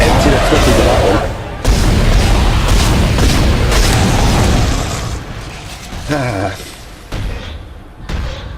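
Repeated gunfire in the Dead Space horror video game, loud booming shots and thuds in dense bursts, with a break and a few later blasts, under game sound effects.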